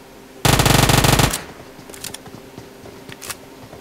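Gunfire in the Battlegrounds Mobile India game: one loud, rapid automatic burst lasting about a second, followed by quieter scattered clicks and faint rattles.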